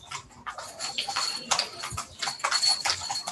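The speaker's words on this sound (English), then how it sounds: "Horses in the streets below." Horses clop along a busy street near the Sphinx in Giza, Egypt, their hooves striking in irregular sharp beats close by, with faint background bustle.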